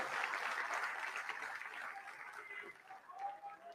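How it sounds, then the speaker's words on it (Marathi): Audience clapping at a Marathi political speech, a dense steady patter of many hands that fades slightly toward the end, with faint voices mixed in. "टाळ्या वाजवा त्यांच्यासाठी."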